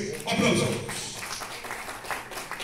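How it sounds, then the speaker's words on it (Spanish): Loud applause from the audience at a swearing-in ceremony for Peru's regional councillors, a dense steady wash of clapping that swells early and then holds, with voices underneath. "Fuertes aplausos."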